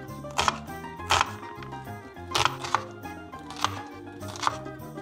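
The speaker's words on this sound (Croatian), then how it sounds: "Jednu srednju glavicu luka sitno sjeckamo." Knife chopping an onion finely on a cutting board: a series of sharp, close taps in quick bursts, several clusters of rapid strikes, with a faint steady background hum underneath.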